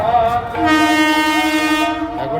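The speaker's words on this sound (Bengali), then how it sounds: "এখন একটা ট্রেন আসছে, এটা তো ডাউনে যাবে।" A down train approaching. It sounds a loud, steady, chord-like horn for about one and a half seconds over a low background rumble.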